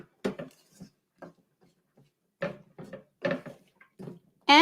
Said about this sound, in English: you're going to give this all a good stir